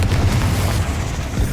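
A Confringo explosive spell blast in the Hogwarts Legacy video game, heard as a loud, sustained low rumbling boom with a burst at the start and another swell near the end, with no talking.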